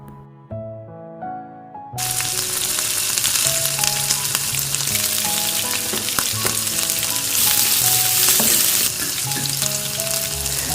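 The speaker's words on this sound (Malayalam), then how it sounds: "എനിക്ക് ഇച്ചിരി കടുവ് ചേർക്കുന്ന ഇഷ്ടം അതുകൊണ്ട് ഞാൻ കടുവ് വറക്കുവാണേ" Mustard seeds for tempering fry in hot oil, a sudden loud sizzle bursting in after a quiet opening, with scattered sharp pops over steady hiss as tuneful background music plays throughout.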